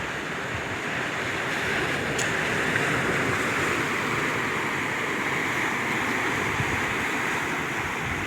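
Ocean surf on the coast of Peru roars steadily and loudly, a continuous wash of breaking waves mixed with wind buffeting the microphone.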